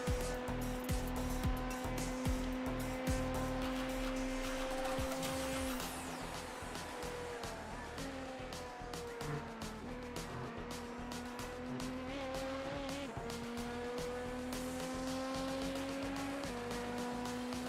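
An LMP2 prototype race car lapping Daytona in the iRacing sim, its engine droning steadily with rising and falling tones through gear changes, continuous and fairly loud for the whole stretch.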